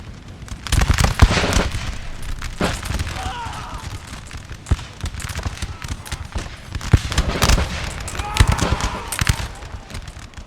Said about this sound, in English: Seems like the musket fire is also still going on in this village and around the village as well.